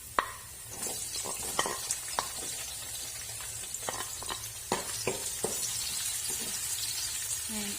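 Garlic and onion sauté in a pan, the onion just added to golden-brown garlic. A steady, close hiss of frying runs throughout, broken by sharp, irregular spatula scrapes and clicks.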